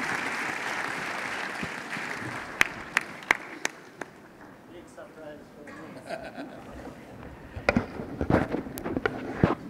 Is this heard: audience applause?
yes